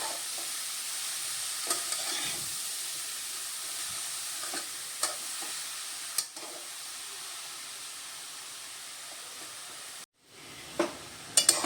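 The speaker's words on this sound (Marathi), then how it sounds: "आपण आता हा गाजराचा खेस तुपामध्ये एक मिनिट व्यवस्थित भाजून घेऊया" Grated carrot stirred and roasted in ghee for carrot halwa, a soft continuous sizzle with occasional spoon scrapes and clicks, close and quiet with a brief handling bump near the end.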